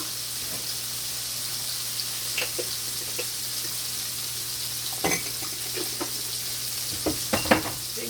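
Shrimp frying in a pan on a stovetop, a steady soft sizzle running throughout with occasional brief clicks and stirring scrapes, fairly quiet and close.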